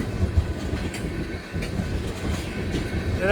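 A big Western freight train rolls past close by, a steady loud rumble of rail cars with faint clickety-clack from the wheels and no talk.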